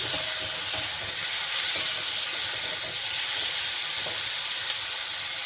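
Slit green chillies added with tomatoes to a hot pan of oil, a loud, continuous, close hissing sizzle that stays steady throughout.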